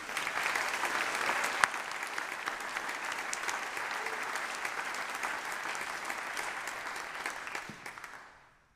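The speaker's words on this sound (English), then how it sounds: "So a round of applause for all of our volunteers." Audience at a diocesan convention meeting applauds its volunteers, a steady wash of many hands clapping from start to finish before fading out at the end.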